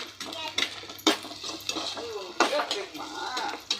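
Chopped green chillies are tipped into onions frying in a pan, with quick metallic clinks and scrapes of a utensil against the pan and a soft sizzle beneath, alongside a voice.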